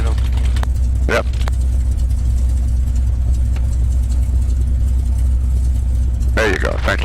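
A North American P-51 Mustang's engine idles with the throttle fully back at around 600 to 700 RPM, a steady, loud, low rumble with a couple of brief faint voices over it.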